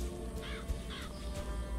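Crows cawing in Bioshock Infinite, two or three harsh caws close by over a steady low ambient hum.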